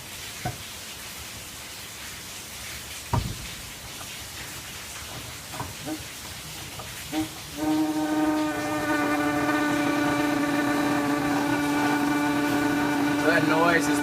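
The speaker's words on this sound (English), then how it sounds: "that noise is the pressure inside the keg building and actually carbonating your beverage" Pressurized gas hissing into a beer keg as pressure builds to carbonate the beverage, starting with faint clicks and handling noises, then a steady tonal hiss with a hum that holds for the remaining seconds.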